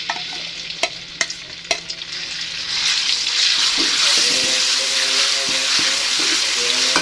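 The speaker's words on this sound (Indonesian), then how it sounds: "Setelah minyaknya panas, langsung aja kita tuangkan bumbunya." Spice paste for an oncom dish hits hot oil after a few sharp clicks, breaking into a loud, continuous sizzle of frying that holds to the end.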